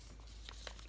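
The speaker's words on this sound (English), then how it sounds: "you're gonna want to fold it" Paper being folded for a homemade paper lightsaber, a faint one-second crinkle with a couple of soft creasing rustles close by.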